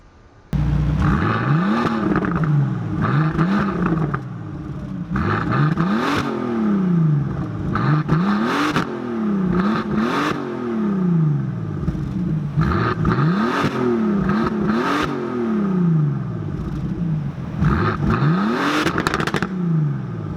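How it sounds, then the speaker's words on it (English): A Bentley Continental Supersports engine barks through a titanium exhaust in a long series of sharp revs, each climbing and falling quickly, close and loud with short pauses of idle between bursts. "All of this is connected to a lovely titanium exhaust system. Now let's take a second and hear how that sounds."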